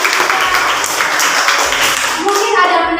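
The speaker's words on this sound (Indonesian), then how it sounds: "Ya, tepuk tangan untuk" A ninth-grade class claps for a classmate named Sisilia during a lesson, close, busy clapping from many hands with a voice rising near the end.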